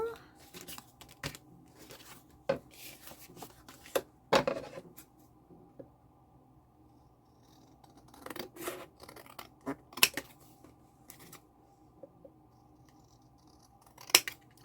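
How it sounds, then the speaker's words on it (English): Scissors cut paper flashcards at a craft table in a basement craft room, a quiet string of crisp, separate snips and paper rustles with pauses between them. "gluing and cutting paper."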